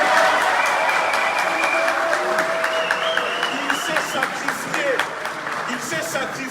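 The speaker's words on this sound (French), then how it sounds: "le brave Premier ministre Choguel, je demande de l'applaudir s'il vous plaît" Audience applause at a conference supporting Mali against ECOWAS sanctions, steady clapping mixed with crowd noise and voices over it throughout.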